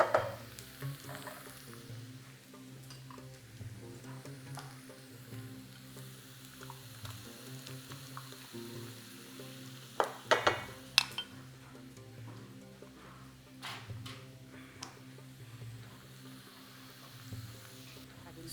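Onions and turkey pieces sauté in a pan for Moroccan turkey and pepper pastries, a quiet steady sizzle running throughout, with a few brief clinks of a utensil near the middle.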